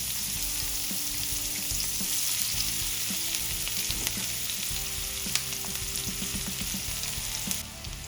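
Oil sizzles and crackles steadily as cumin and onion fry in a pan for paneer butter masala, with occasional light clinks and stirring sounds, no voices.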